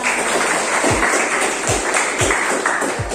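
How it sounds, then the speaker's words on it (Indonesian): Students in a vocational high school classroom clap together in a steady, dense burst of applause that holds evenly throughout, with a few louder low thumps standing out at regular intervals. "Tepuk tangan buat kita semua."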